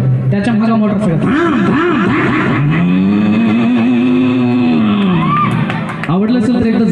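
On a comedy stage in Latur, a performer vocally imitates a motorcycle with a loud, close, revving drone that warbles and sweeps in pitch, while the crowd murmurs and cheers underneath.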